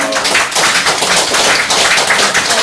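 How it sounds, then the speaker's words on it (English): Loud, close applause from a small audience at a poetry reading, welcoming a poet to the stage: a dense, steady wash of hand claps that holds on its own for the whole stretch, with no voices over it. "Can you give her a round of applause?"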